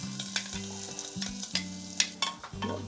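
Green chili and garlic hit hot oil in a pan, crackling and sizzling with sharp pops and stirring clatter, close and lively, with a low tonal hum beneath and no talking.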